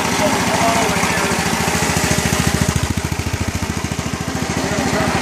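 An HHO engine runs on gas alone, a loud, close, steady rhythmic chugging with a deep pulsing beat that shifts slightly in pace partway through.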